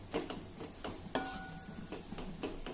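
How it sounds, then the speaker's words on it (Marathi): Tomato sautéing in a pan for a festive vegetable dish, mashed with a ladle: soft stirring and scraping in a steady rhythm, with a few sharper ladle knocks on the pan and a faint sizzle underneath. "या प्रकारे डावाच्या साहाय्याने हे थोडं मॅश करा"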